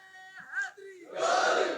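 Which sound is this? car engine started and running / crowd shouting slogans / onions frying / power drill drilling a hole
crowd shouting slogans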